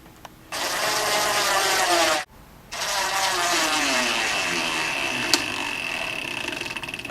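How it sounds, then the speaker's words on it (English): A power drill drives 1/2-inch flathead screws through a metal L bracket into a lazy Susan cabinet corner, with two close whirring bursts split by a short pause and a slight tick near the end. "take our 1/2-inch flathead screws and screw it into place"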